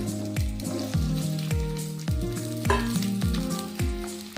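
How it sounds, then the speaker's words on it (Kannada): Onions frying in oil in a pan sizzle loudly and close, with repeated rhythmic scraping strokes of a spatula roughly every half second over a constant crackle, and no talking. "ಸ್ವಲ್ಪ ಪಾತ್ರೆಗೆ ಸ್ವಲ್ಪ ಎಣ್ಣೆಯನ್ನು ಹಾಕಿಕೊಳ್ಳೋಣ ಮೊದಲು ಉಳ್ಳಾಗಡ್ಡಿಯನ್ನು ಹಾಕಿಕೊಳ್ಳಿ"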